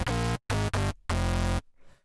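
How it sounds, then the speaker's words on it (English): Unfiltered FM bass synth, bright and harmonically rich, sounds four loud buzzy notes in a short stop-start phrase, the last held longest before a faint tail. "We're making a very harmonically rich sound like this."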